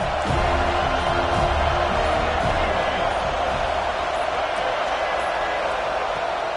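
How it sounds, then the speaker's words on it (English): A dense, steady roar from a packed stadium crowd at a Georgia versus FSU college football game, loud and continuous throughout with no clear breaks. "This crowd ready to make its presence known."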